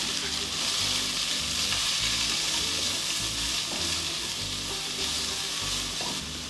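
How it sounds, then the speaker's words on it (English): Garlic and onion frying in a pan, a loud continuous sizzle with stirring scrapes and low rhythmic thuds underneath, close up with no talking. "And our garlic. Give that a good stir."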